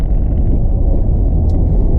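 A Daihatsu Charade CX 1.3 idles with a steady, close, loud low exhaust rumble that holds throughout, with no talk.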